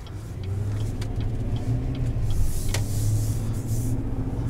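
A 2020 Chevrolet Silverado 2500 heavy-duty pickup truck drives along with a steady, low engine rumble and road noise, mildly swelling as it accelerates, with no talking.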